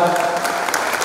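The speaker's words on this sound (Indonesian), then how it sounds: "Tepuk tangan sekali lagi." Audience applause at a NasDem party officials' inauguration ceremony in Blitar Regency, East Java: steady, dense clapping from a crowd throughout, with a voice over it.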